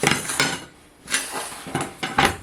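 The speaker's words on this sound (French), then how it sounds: "Maintenant, on va couper la viande" A knife cuts raw chicken into strips on a board, producing a series of sharp taps and scraping knocks in irregular bursts, with short pauses between strokes and no talking.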